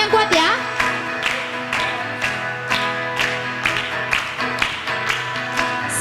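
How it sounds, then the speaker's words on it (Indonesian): Rhythmic hand clapping at a children's Sunday school worship service, sharp claps on a steady beat over singing and accompanying music, loud and close. "Tepuk tangannya yang kuat ya."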